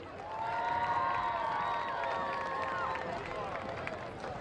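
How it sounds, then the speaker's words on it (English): A crowd in the stands at an Oklahoma high school football game, Stillwater Pioneers vs Putnam City North Panthers, gives sustained applause and cheering for an honoree, a broad roar with raised voices riding on top. "One more round of applause for Corey"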